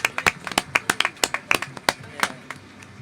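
Hand claps ring out at an outdoor music festival, a quick, uneven burst of sharp, close claps from a few people that thins out toward the end, with voices faintly in the background.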